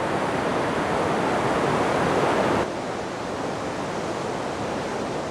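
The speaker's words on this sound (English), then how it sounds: "The raw power of this glacier river is quite frightening." A powerful glacier river in New Zealand rushes loudly and steadily, a dense continuous roar of churning water close by that drops slightly in level partway through.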